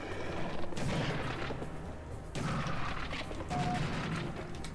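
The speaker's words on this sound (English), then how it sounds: "Mind you, it's only the pump shotgun." A pump shotgun fires in the first-person shooter Serious Sam: The First Encounter. Several loud, booming blasts come in quick succession, with mechanical clatter and crashing impacts between them and no speech.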